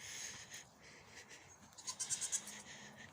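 Goats bleating in a farm pen during a storm, a quick run of several short, close bleats over a faint wet background.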